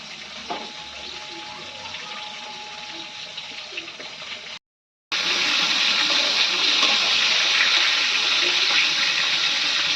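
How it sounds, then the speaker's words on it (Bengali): Running tap water pours steadily as vegetable stalks are rinsed for a Bengali fish curry, a constant close rush that breaks off briefly midway and then resumes louder and fuller. "এবার ডাটাগুলো আমরা ভালো করে ধুয়ে নেব"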